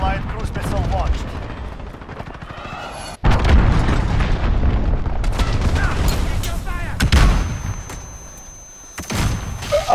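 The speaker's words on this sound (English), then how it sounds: "Allied cruise missile launched." Cruise missile strikes and gunfire in the game Call of Duty Modern Warfare: a sudden heavy blast opens into sustained rumbling explosions and rattling shots, loud and dense, with a voice briefly heard.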